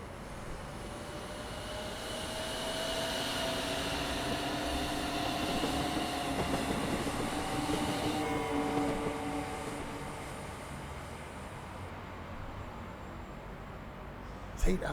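A London Overground train on the Mildmay Line in Train Sim World 5 passes by, a steady broad rumble and whine that swells and holds, then fades slightly, heard from a distance.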